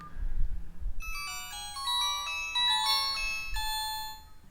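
A Nokia 105 Plus phone plays its ringtone at full volume, a bright electronic melody of quick stepping tones that starts after a second of handling noise and continues steadily.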